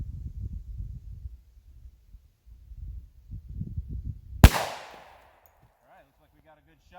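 A single sharp 10mm pistol shot with an Underwood Xtreme Hunter bullet cracks out loud and close, then rings off into a short decay after low rustling and handling noises.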